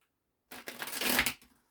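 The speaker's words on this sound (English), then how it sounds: "I only shuffled once" A deck of tarot cards is shuffled once by hand, a short close riffle of papery flicks rising and fading over about a second in a quiet room.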